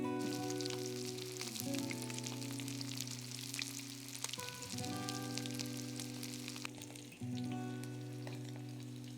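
Fish sizzles loudly and steadily as it fries on a griddle pan, with a couple of short clatters or shifts partway through and a continuous bright crackle throughout, no talking.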